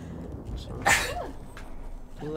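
A single sudden sneeze bursts out near the one-second mark, short and fairly loud, above game sounds and background voices.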